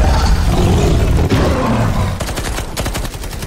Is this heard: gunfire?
yes